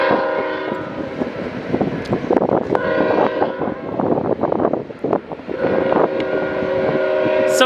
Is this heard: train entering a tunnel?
yes